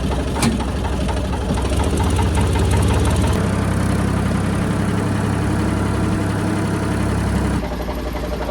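A farm vehicle's engine runs steadily close by, a loud continuous rumbling idle with a knocking vibration that shifts slightly in pitch partway through.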